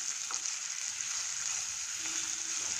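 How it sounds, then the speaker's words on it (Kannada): Continuous bright sizzling of spices frying in a pan alongside Byadagi red chillies and red chilli powder, steady and close with a faint stir midway, no voices. "ಇದು ಸ್ವಲ್ಪ ಫ್ರೈ ಆಗಲಿ."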